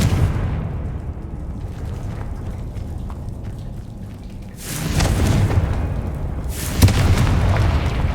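Confringo fire spell blasts in the video game Hogwarts Legacy, heard as two booming explosive bursts over a rumbling, noisy game background.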